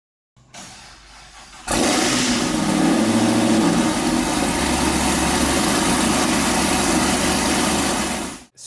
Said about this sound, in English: This thing's on a 1200 horsepower pro-charged engine, fully custom built